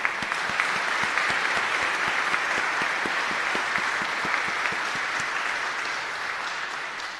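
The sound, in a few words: round of applause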